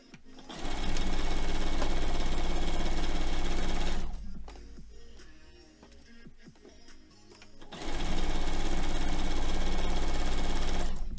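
A sewing machine stitches quilt borders at a quarter-inch seam, running in two long, steady, close bursts with a quieter pause of handling and clicks between them.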